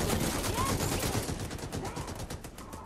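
Rapid gunfire from computer-controlled characters in Fortnite, dense bursts of overlapping shots and automatic fire, loud and continuous over the brief span with game noise behind it.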